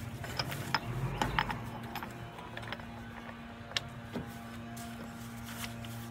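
Nut being removed from a Kenworth truck king pin, scattered metallic clicks and ratcheting taps over a steady low hum, fairly faint and close, no speech.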